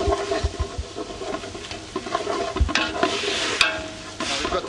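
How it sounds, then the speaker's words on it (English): Flour and corn flour are stirred into browned onions, garlic and celery for a mussel soup. A spoon scrapes and taps the pot close by while soft frying crackles underneath. "what we're going to be adding in now is the flour and the corn flour. Just slowly going to stir that in."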